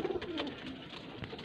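Pigeons cooing at home, soft low throaty coos up close and faint, in a brief murmur with light rustling.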